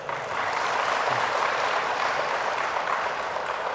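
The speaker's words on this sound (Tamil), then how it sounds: "அவருக்கு ஒரு பலத்தை கைத்தட்டல் கொடுத்துருங்க" A crowd at a church workshop applauds with steady, dense clapping that holds at an even level throughout.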